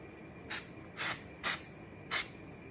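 Root spray from an aerosol can applied to a blonde wig in four short hissing bursts, the second slightly longer, close and fairly quiet against a faint room background.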